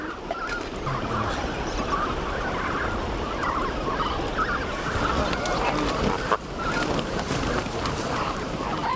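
A dense, continuous chorus of hundreds of flamingo chicks calling and honking at once as they are herded through water in the Ebro Delta, loud and close, with splashing movement underneath.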